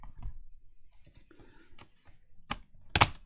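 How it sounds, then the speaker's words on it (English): Quiet clicks, taps and plastic rattles as the keyboard is pried out of an HP laptop during a teardown, ending in a couple of sharper snaps; the sounds are sparse and irregular, with no talk. "Oh, I think I'm going to have to take out the keyboard."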